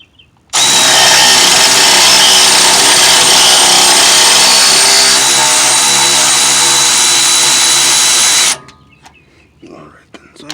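A power tool, likely an impact wrench, turns a nut on a sway bar link of a 2000 Toyota 4Runner, giving one loud continuous whirring run of about eight seconds that cuts off abruptly.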